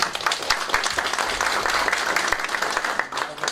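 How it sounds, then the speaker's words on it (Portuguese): An audience at a forum bursts into strong, sustained applause, dense clapping that rises quickly and holds loud and close before thinning slightly at the end. "a quem pedimos uma salva de palmas"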